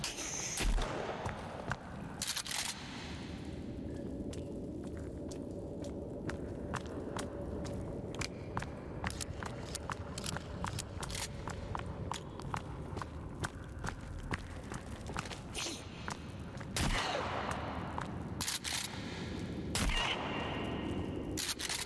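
Weapon fire in the survival video game Sons of the Forest: rapid sharp shots crack in scattered bursts over a long, low rumbling backdrop, with dense volleys at the start and again near the end.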